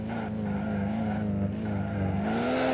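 A VW Saveiro Cross engine held at steady high revs with the accelerator stuck, a continuous loud droning whine that rises slightly in pitch, close and unbroken.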